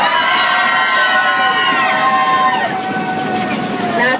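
A crowd of ride passengers screaming together at once, loud and sustained for a few seconds, then tapering off.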